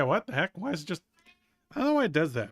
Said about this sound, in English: Yeah, sorry about my cat.